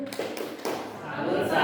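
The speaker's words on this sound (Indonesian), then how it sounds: "Tepuk salut." A class in an Indonesian classroom claps a short rhythmic 'tepuk salut' salute, a few sharp, close hand-claps in a quick pattern, followed by rising murmur and voices.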